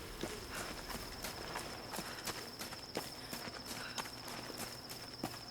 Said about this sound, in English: Like when I walk on the wood, it sounds different.